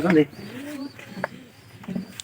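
Pigeons in a cage give soft, low coos in short phrases, close by, while someone talks over and between them.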